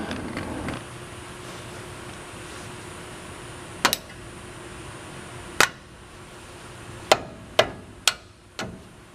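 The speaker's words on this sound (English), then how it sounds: "we can hammer that out towards the back." Hammer blows on the brake caliper slide of a Ford truck's front brakes, six sharp metallic strikes spaced irregularly over a low background hum, fairly close and loud against the quiet.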